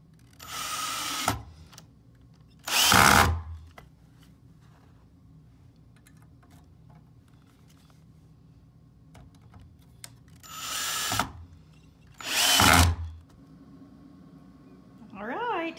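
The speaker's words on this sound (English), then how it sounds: "now we're ready to secure the mending plate with screws." A power drill drives screws into a metal mending plate on an upcycled wooden daybed, with four separate loud bursts of whirring spaced apart by quiet gaps.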